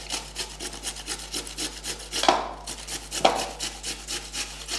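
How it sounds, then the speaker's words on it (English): Raw potato rubbed on a grater gives close, rhythmic rasping strokes in a steady back-and-forth scrape, with no talk. "All we have to do is just grate it."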